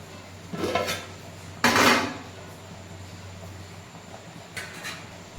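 Metal lid set down on a biryani cooking pot, two sharp clanks with a short rattle between them, then a fainter clatter a few seconds later, all close by with no talking.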